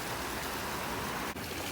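A river near Lake Como, close to the Swiss border, gives off a steady broadband rush of flowing water, unbroken from start to finish apart from a brief dip near the end.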